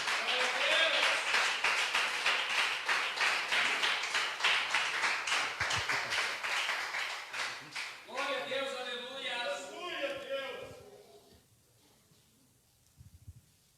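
A church congregation claps in a strong, regular unison rhythm to welcome a preacher, loud and close at first, then a voice rises over the clapping as it thins and fades out, leaving near silence with a few soft knocks.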